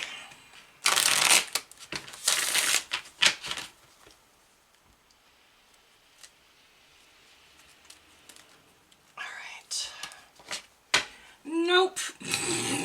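Tarot cards being shuffled up close in loud riffling bursts, a long burst near the start and more toward the end, with a quiet stretch between and a voice speaking around the shuffles.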